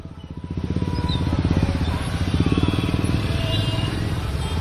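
Motorcycles riding in a bike rally for voter awareness, a steady, throbbing engine rumble from several bikes passing nearby, continuous and fairly loud without talk.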